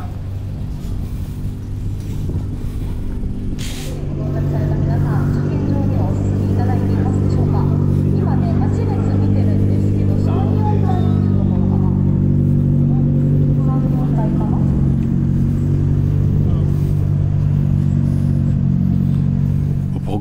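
Racing cars drive a circuit during a rainy practice session, their engines a steady, loud, continuous rumble and drone that rises slightly after the first few seconds, with a voice talking over it throughout.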